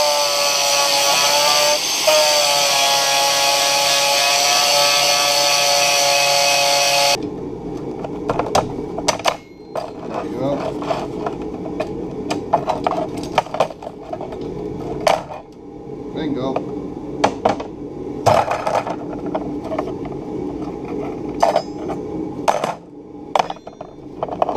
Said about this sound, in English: looks like I need to drive out the rivets a bit more